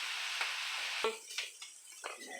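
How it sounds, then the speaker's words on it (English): Morel mushrooms frying in butter in a skillet, a soft steady sizzle that thins out after a second, broken by a few light scraping or stirring sounds, close and quiet with no talk. "So while these are cooking in your butter in the skillet"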